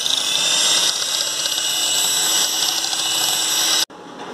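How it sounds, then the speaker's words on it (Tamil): An electric beater whips dalgona coffee, a loud steady high-pitched whirring buzz that holds for about four seconds and then cuts off abruptly, leaving quiet room sound. "இப்போ பீட் பண்ண ஆரம்பிச்சிடலாம்."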